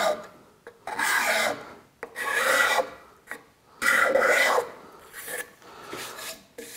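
A card scraper rasps across a wood surface in several separate strokes of bright scraping, each about a second long, with short pauses between them and no one speaking.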